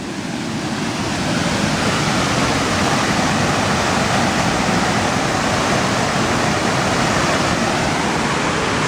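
Water pours steadily over a small dam beside a woodland trail, a loud, continuous rushing wash that holds unbroken throughout.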